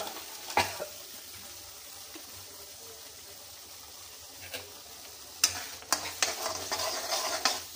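Tamarind gojju for puliogare cooks in oil in a home kitchen, giving a faint, steady sizzle with a few sharp stirring clicks and scrapes, louder bursts of spoon-on-pan contact near the end.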